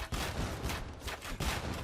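Organ guns volleying in a match of Age of Empires II, two rapid bursts of crackling gunfire close together, loud and dense with battle noise.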